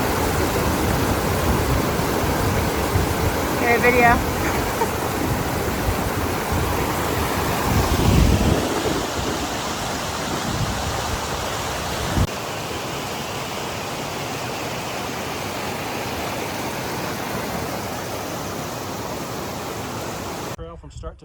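An unnamed waterfall on Mount Hood, Oregon, produces a steady broadband rushing roar, with gusts of wind across the microphone and people talking over it.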